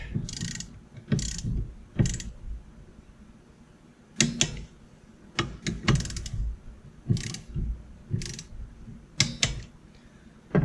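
A torque wrench tightening a bolt on a Farmertec G660 chainsaw gives repeated short ratcheting clicks in separate bursts with pauses between them, close and fairly quiet, with no speech.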